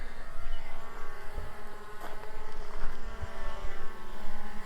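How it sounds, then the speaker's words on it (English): A DJI Mavic Air 2 drone flies nearby outdoors, its propellers giving off a steady, high-pitched buzzing whine with tonal harmonics. The whine holds at a constant level throughout, with occasional low thumps and rustles underneath and no talking. "Drone is still following me."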